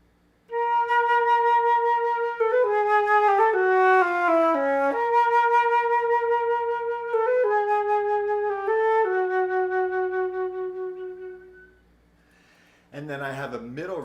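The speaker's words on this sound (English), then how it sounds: "So in my low register, that would sound like this." A flute plays a melodic phrase in its low register, clear and close, with notes stepping downward and back before trailing off, followed by a brief brighter burst.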